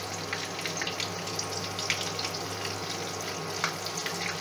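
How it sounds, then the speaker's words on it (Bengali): Battered topshe fish frying in hot oil over a medium flame, giving a steady, dense crackling sizzle with small pops scattered throughout, close and continuous with no talking. "এবার মাছগুলো আমি ব্যাটারে চুবিয়ে তেলে আমি ভেজে নিচ্ছি।"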